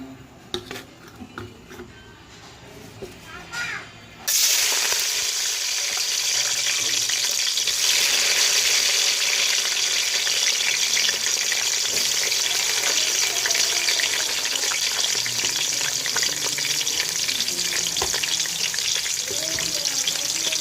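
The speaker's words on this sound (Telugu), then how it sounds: "ఆయిల్ అయితే బాగా వేడైంది. ఉల్లిపాయ, పచ్చిమిర్చి వేసుకుందాం." Chopped onion and green chili hit very hot oil in a pan, bursting into a loud, steady sizzle after a few seconds of quieter kitchen clatter, then crackling continuously close by.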